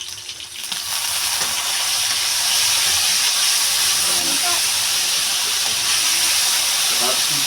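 Fish sauce poured into a hot pan with bitter gourd, bursting into a loud sustained hiss and sizzle that swells after a brief quieter start and stays steady close by.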